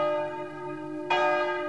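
A church bell in the belfry of an old tower in Lorgues, dating from 1623. It gives a single loud, ringing strike whose bright tone hangs and sustains, heard alone.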